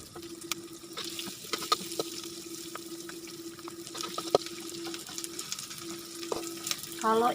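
Small anchovies frying in oil in a wok, a steady crackling sizzle with occasional sharper pops and stirring clatters, close and continuous.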